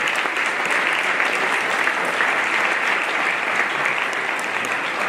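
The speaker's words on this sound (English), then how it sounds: "Can we please have one more round of applause for both?" Sustained audience applause at a gala dinner honoring two scientists, a dense, steady wash of clapping from a large crowd that holds at an even level throughout without pause.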